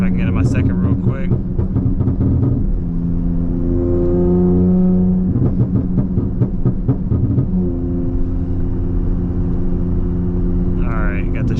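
A drag car on a drag race transmission tune accelerates hard in second gear, its engine droning loud and close with rising revs and a shift, under a voice talking through it.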